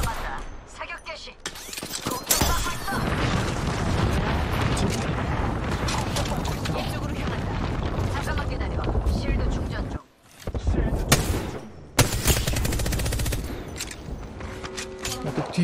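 Rapid gunfire in Apex Legends, long dense bursts of automatic shots and booming impacts, with one short pause before the firing resumes, while players talk over the shooting.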